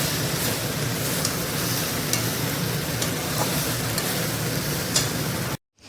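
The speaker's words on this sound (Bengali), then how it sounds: "ছোটো মাছগুলো দিয়ে একটু নাড়াচাড়া করে হালকা পরিমাণ জল দিব" Small fish being stirred in a frying pan, a steady sizzling and scraping that runs continuously and fairly loud, with faint clinks of the spoon, cutting off abruptly at the end.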